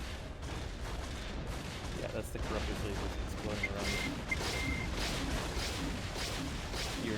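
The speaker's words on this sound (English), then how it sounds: "that's the corruptor's lasers exploding around me" Laser fire from the Corruptor in X-Wing Alliance bursts in a rapid, dense barrage of booming explosions and crackling impacts around the cockpit, continuous and loud throughout, with a faint radio-like chirp at moments.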